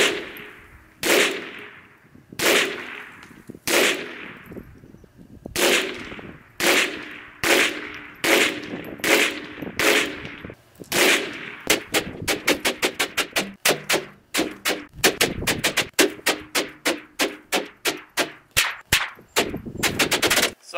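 .22lr rifle shots fired at a truck door, sharp close cracks starting slow and evenly spaced, then speeding into a rapid string of shots in quick succession, loud and alone.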